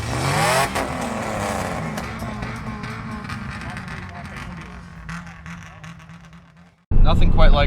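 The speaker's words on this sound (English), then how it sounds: "Nothing quite like a nice early morning tow in the Ranger." A Ford Ranger truck tows a broken-down car in the early morning during the 2021 Detroit Gambler 500 road rally, its engine a loud droning rumble that slowly fades and drops before a sudden loud burst of noise.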